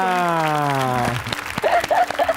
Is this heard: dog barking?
no